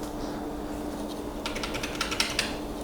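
A Keychron mechanical keyboard is tapped in a brief run of quiet keystrokes, a few sharper clacks standing out toward the end over soft room noise.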